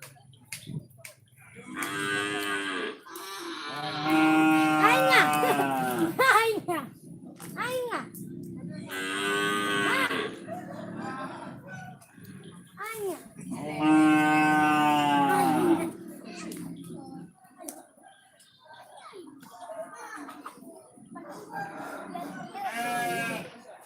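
Cattle at a roadside cattle stopping place low repeatedly in long, loud moos that come in several separate bursts, some close and some farther off, with outdoor background noise in between.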